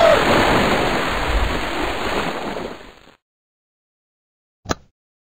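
Ocean surf crashes and rushes in a loud, broad roar for about three seconds, then cuts off into silence, followed by a single short thump.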